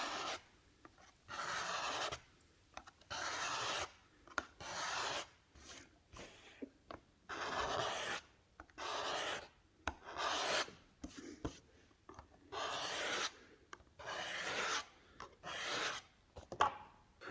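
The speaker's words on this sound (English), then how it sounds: "And the surface you get with a scraper is just smooth." A hand scraper shaves smooth a wooden piece for a classical guitar rosette in repeated rasping strokes, each lasting about a second, with short quiet pauses between them, close and clear.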